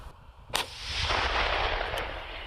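A Czech Dana 152 mm self-propelled howitzer fires a single loud, sharp blast, followed by a broad rolling rumble that lingers and fades slowly, with no voices.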